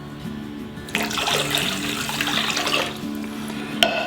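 Two cups of plain water are poured into a mixing bowl, a soft splashing stream that starts after a quiet moment, runs for about two seconds and tapers off, with a faint steady hum underneath.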